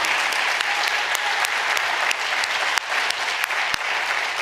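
Steady, full applause from an audience at an Open House Ministries evening event thanking the staff, dense and even throughout with a couple of sharper claps near the end.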